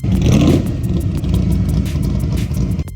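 A Corvette C3 with side exhaust rumbles and revs loudly and close, a dense low engine roar holding steady for a few seconds with a brief dip near the end.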